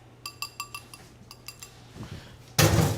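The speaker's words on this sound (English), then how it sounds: "Just whisk until the yolk is broken." Eggs being whisked in a bowl: a quick run of light, regular clinks as the whisk strikes the bowl, then a louder clattering burst near the end, with no talking.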